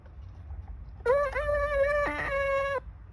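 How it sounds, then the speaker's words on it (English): A rooster crow from a 1998 LeapFrog farm toy rings out after a second of quiet, one bright electronic cock-a-doodle-doo with a clear rising and falling pitch, lasting under two seconds, loud and close. "I'm a red rooster. I wake you up."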